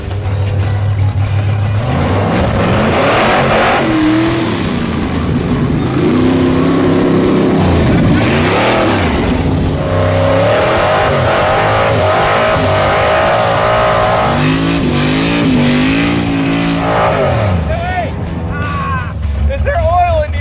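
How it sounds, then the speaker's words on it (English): Old drag race car engine revving on a backyard test track, loud rising and falling revs with rough idle between bursts, under people talking. "take the car out and make a little bit of a test track in his backyard"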